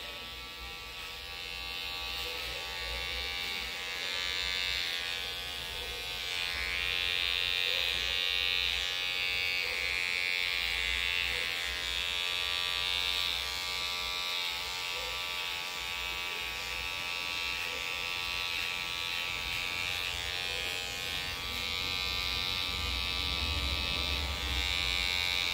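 An electric hair clipper trims the back of a man's neck, giving a steady close-up buzz with a slight rise and fall as it moves over the skin, running continuously without talk.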